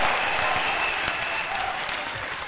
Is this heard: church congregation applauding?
yes